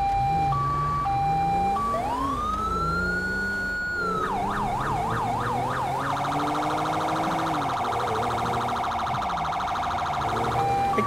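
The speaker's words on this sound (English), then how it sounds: "We're using a Code 3 Mastercom B siren." A Code 3 Mastercom B electronic police siren in the video game Grand Theft Auto V sweeps up into a long wail, then switches to fast yelping and a rapid piercing warble, loud and continuous.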